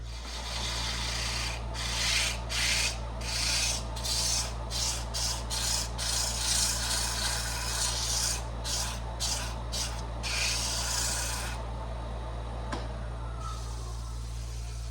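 Hand-sanding a wooden canteen flask, a run of rhythmic rasping strokes in quick bursts with brief pauses, close and loud over a steady low hum, then quieter at the end.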